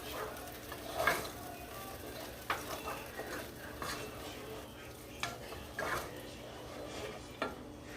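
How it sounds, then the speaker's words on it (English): Curry chicken is stirred in a pot with a low sizzle, and a utensil scrapes and taps against the metal in soft, irregular strokes, quiet and close. "You're just going to mix that in and constantly stir it around a bit."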